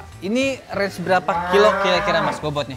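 Madura cattle moo in a livestock pen where cows are being chosen for qurban sacrifice, with loud, drawn-out bellows running together with people talking nearby.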